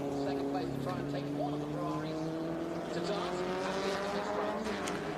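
A Ferrari 250 GTO and a Porsche racing at the 2023 Velocity Invitational, their engines droning steadily and climbing in pitch as they pass at a distance, with commentary running over them.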